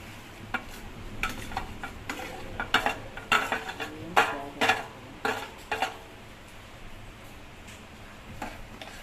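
Spoon scraping and clinking against a pot while vermicelli is stirred into boiling milk for payasam, a series of close, irregular metallic strokes over a low simmering background.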